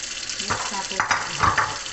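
Vegetable soup is mixed in a pot, giving several soft scraping and sloshing strokes in a loose rhythm over a faint sizzle, close and fairly loud.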